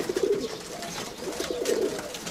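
Decorative pigeons coo in a soft, repeated rolling rhythm, two bursts of low throaty calls close by, with faint background noise and no talk.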